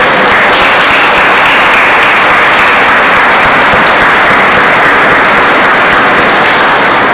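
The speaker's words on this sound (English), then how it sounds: "Let us congratulate Chris with a warm round of applause." Warm, sustained applause from an awards-ceremony audience at a volunteer hall of fame event, loud and dense throughout with steady clapping and no voices over it.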